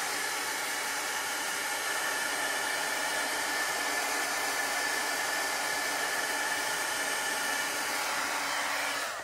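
A hair dryer blows steadily at close range to dry a Chalk Couture chalk transfer before heat setting, a constant even rushing whoosh with no talking.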